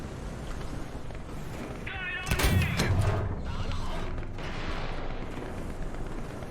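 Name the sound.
tank cannon shot in video game, Chinese T-62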